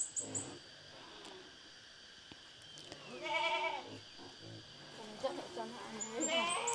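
Goats on a rural Vietnamese homestead bleat several times in wavering calls, close and fairly loud, mixed with people talking nearby and an occasional bird chirp.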